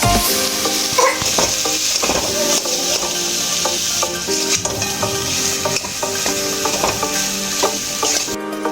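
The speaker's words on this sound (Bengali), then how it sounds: "অল্প করে জল দিয়ে মশলা কষিয়ে নেব।" Spices sizzle and fry in a hot pan with a little water added while a utensil stirs and scrapes steadily, loud and close, with no talking.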